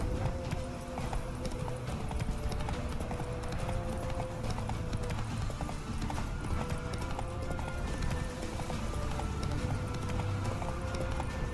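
Horse hooves clip-clop steadily in The Witcher 3 video game, a continuous trotting rhythm over a busy background of game ambience and music, with an occasional whinny.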